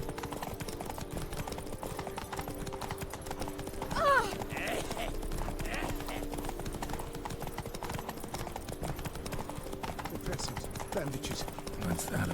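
Roach the horse galloping in The Witcher 3: Blood and Wine, a fast steady clip-clop of hooves kept up the whole way, with a brief sharp whinny-like cry early on and game sounds mixed in.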